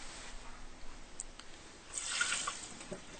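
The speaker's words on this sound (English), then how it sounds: "So here we're going to drain our raisins" Soaked raisins drained for a basic rice pudding, with water trickling and dripping into a sink, a brief louder splash of running water near the middle, soft and close with no talking.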